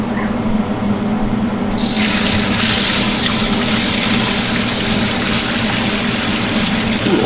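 Dirty water from a cleaner tank is dumped into a sink, starting with a quieter stretch and then a sudden loud, steady gushing pour that keeps going to the end.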